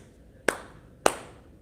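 Two sharp hand claps ring out about half a second apart, crisp and close, with quiet in between.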